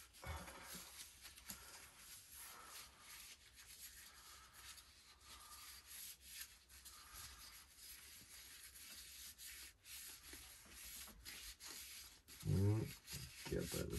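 A hand rubs linseed oil into a wooden dovetail box, giving a soft, continuous, close-up swishing friction with a louder bump near the end.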